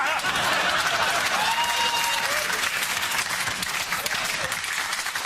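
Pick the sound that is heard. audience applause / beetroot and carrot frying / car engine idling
audience applause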